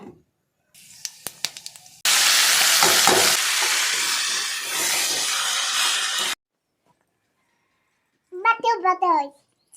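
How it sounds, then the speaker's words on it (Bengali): Panch phoron spices dropped into hot oil in a freshly washed wok, a loud burst of crackling sizzle that runs steadily for several seconds, with a voice and an adult's brief talk before and after. "এই যে কড়াইটা ধুয়ে আবার এর মধ্যে দেবো তেল আর তখন পাঁচ ফোড়ন দেইনি তো এখন দিয়ে দেবো"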